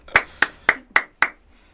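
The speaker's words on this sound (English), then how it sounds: "that was my clap" Five sharp single hand claps land at an even, brisk pace, close and distinct with short gaps of silence between them.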